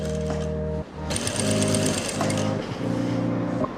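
A sewing machine runs a straight seam on a salwar in loud, close bursts, stopping briefly and then starting again with a steady motorised whir.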